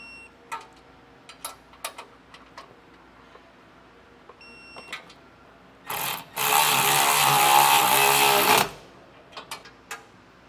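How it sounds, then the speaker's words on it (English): A torque wrench tightens bolts on a MORryde X-Factor frame hanger crossmember. Scattered sharp metallic clicks and ticks come close up, broken midway by a few seconds of steady loud ratcheting buzz before the sparse clicking resumes. "we'll come back through now with that torque wrench and just triple check we are to the specification"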